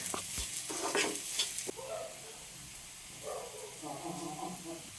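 Masala sautéing and being stirred in a pan for a fish dish, with soft sizzling, spoon scrapes and clinks near the start, then quieter frying under low background talk.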